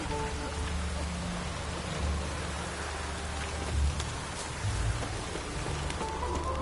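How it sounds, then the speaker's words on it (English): Steady rain patters on surfaces with a constant hiss, with a low rumble underneath and no talking, in the video game The Witcher 3: Wild Hunt. "Like it would rain, and here it is."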